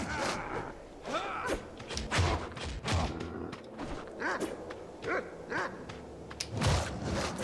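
A dog barking in the video game Shank, repeated sharp barks and yips scattered across the stretch amid game noise, fairly close, with a little speech mixed in.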